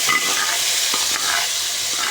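Marinated chicken sizzles loudly in a hot pan for a chicken masala curry, a dense continuous frying hiss with faint stirring scrapes.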